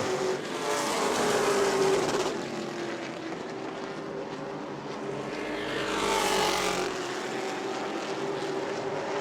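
Two race car engines scream past in succession on a short oval track, each rising and fading as it sweeps by at a moderate distance.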